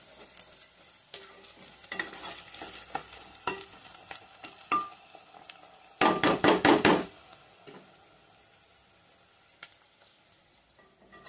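Onions, curry leaves and dried red chilies frying in a pan for a dry meat masala curry, with intermittent stirring clatter and a loud burst of sizzling and scraping partway through, then quieter frying.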